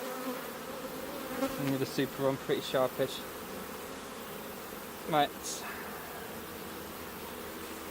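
Honeybees hum and buzz steadily around an open hive, individual bees zipping close past; a person speaks briefly over the buzzing.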